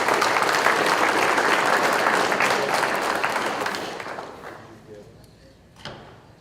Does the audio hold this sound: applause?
yes